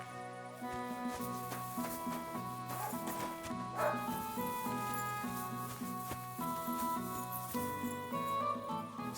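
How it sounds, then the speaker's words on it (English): A dog in Kingdom Come Deliverance II barks in short bursts over steady background music, moderately near and not very loud. "Call off that dog, or I'll report you for being a public nuisance."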